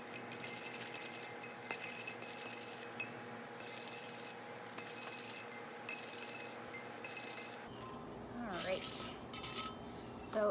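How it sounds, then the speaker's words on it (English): A tumbler is wet sanded with repeated short rasping strokes in an even rhythm, close up, then a few brighter scrubbing sounds near the end. "I am wet sanding right now."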